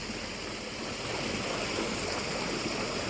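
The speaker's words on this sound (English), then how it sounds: "Now I've opened up that little dam and down she comes." Irrigation water released from a small dam rushes down a ditch toward pasture and a small orchard, a loud, steady, broadband flow with no pauses.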